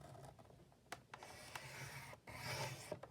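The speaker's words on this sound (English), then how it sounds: "we're going to just score those right in half for our hinges" Scoring tool pressed and drawn along paper on a scoreboard, creasing a hinge line down the middle of a mini file folder; soft close rasping strokes with a few sharp taps, fairly quiet and without talk.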